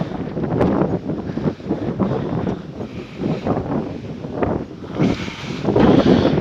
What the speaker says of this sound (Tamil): காற்று தான் சவுண்ட் அதிகமாக இருக்குது